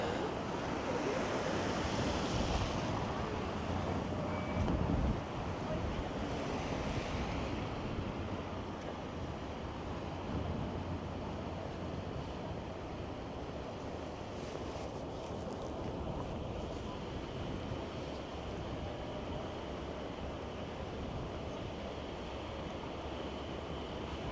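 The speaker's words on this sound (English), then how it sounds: "the wind is making it not feel like a milder day today" Gusty wind on a chilly Toronto city street walk along Bay Street, a continuous loud rumble buffeting the microphone throughout, no speech.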